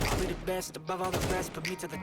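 Rapid gunfire from Counter-Strike 2 gameplay, a quick burst of several shots over about two seconds, loud and close, with voices talking over the firing.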